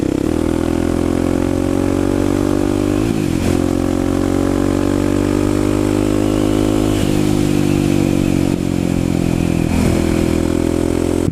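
Kawasaki KLX250SF supermoto motorcycle engine running loud and close, holding a steady drone with several throttle blips and revs rising and falling, no talk.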